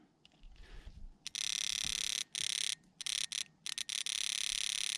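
Fuel injector on a 1992 Ford F150 pickup pulsed by a small tester, giving a loud, shrill buzzing that comes in sharp bursts and choppy stutters with short gaps.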